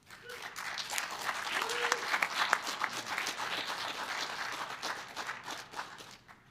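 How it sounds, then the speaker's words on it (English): Warm round of applause from the audience at a startup demo day as a founder is welcomed to the stage, steady scattered clapping at moderate distance, fairly soft overall. "Please give him a warm round of applause"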